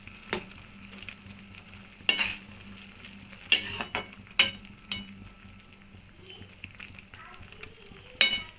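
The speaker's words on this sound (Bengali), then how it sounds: "এটা ভালো করে নেড়ে দিচ্ছি।" A spoon stirs banana flower curry with potato and chickpeas in a pan, producing sharp metallic scrapes and clinks at irregular intervals over a faint, continuous low background.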